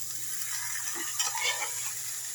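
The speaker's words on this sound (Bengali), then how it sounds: "একটুখানি মশলার সাথে মাখিয়ে নিই" Vegetables (carrot, beans, spring onion, sweet corn) being mixed with spices for vegetable soup: soft wet stirring and squelching, quiet and close, brief, with no speech.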